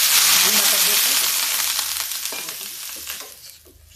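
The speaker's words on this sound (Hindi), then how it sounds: "ये देखिए तेल गर्म हो गया, इसमें हम डाल देते हैं पानी" Water hits a hot oiled griddle being readied for semolina dosa and gives a loud, broad sizzle that starts at full strength and slowly fades.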